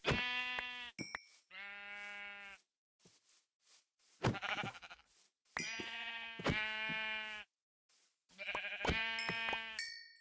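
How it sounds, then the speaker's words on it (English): Several video game sheep bleat in a series of loud, wavering calls, some overlapping, with short pauses between bursts. "Like I've ever seen so many sheep like this."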